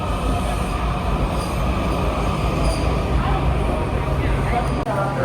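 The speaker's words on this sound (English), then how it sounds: "Here comes the blue train." A DC Metro Blue Line train rolls into a station on the upper track level, a loud, steady rumble of railcars and wheels filling the whole stretch with faint wheel squeal, while people speak over it.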